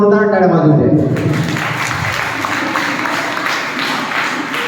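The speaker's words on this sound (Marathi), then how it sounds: "त्याबद्दल त्याच्यासाठी खूप जोरदार टाळ्या वाजवून द्या." An audience of parents at a children's program claps in sustained, dense applause that follows a spoken line over a PA and continues steadily to the end.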